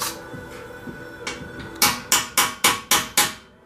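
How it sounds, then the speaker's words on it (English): Sharp metallic strikes from a 2-pound shop hammer during a Wild Boar winch bumper install on a Polaris RZR 800S, a few lighter taps followed by six loud, evenly spaced blows close by. "no mind to that 2-pound shop hammer."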